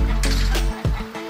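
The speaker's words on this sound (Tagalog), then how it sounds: "itong tandang na ito medyo bata pa ito" A young rooster gives a few short, close clucks in quick succession.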